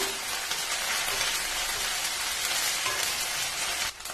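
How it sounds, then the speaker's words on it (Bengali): Ginger paste fries in a pan with onions for a fish stew, giving a steady, dense sizzle close by that holds evenly before easing slightly at the end. "আদা বাটাটা দিয়ে দিলাম আদার কাঁচা গন্ধটা যাওয়া পর্যন্ত একটু ভালো করে কষে নেব"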